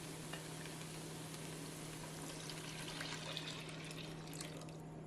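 Vegetable stock pouring into a pot of sautéed celery, carrots, onions and peas, a steady close wash of liquid and faint sizzle over a constant low hum.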